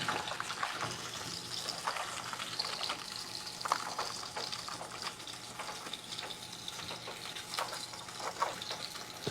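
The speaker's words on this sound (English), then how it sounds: "We'll go ahead and drain it." Hot water drained from a bag or container of sous-vide asparagus, a steady close gushing splash with a few brief spattering bursts throughout, heard alone without talk.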